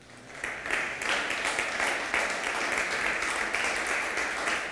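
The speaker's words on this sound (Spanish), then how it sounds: "¿Qué tal si le da un fuerte aplauso al Señor?" A church congregation applauding during a service: a rising burst of many hands clapping, sustained and fairly loud in a reverberant room, with a few voices faintly mixed in.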